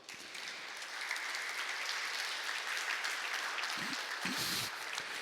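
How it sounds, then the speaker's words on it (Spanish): Worshippers in a Spanish-language ministry teaching session applaud the Lord, a sustained, even roar of many clapping hands at moderate distance, with a few louder thumps near the end. "Dele un aplauso al Señor."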